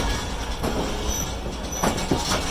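A passenger train rolls along the line from Hyderabad toward Karachi on the Nawabshah to Karachi route, with a steady loud rumble from inside the carriage, broadband wheel noise and a few sharper rail clatters and squeals near the end.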